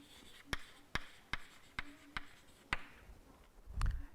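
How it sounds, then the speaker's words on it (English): During a lecture on analytic functions, chalk taps and scratches on a board in a quick series of sharp, evenly spaced strokes, close and quiet, ending with a soft rub or thump and no talking. "Let me write it."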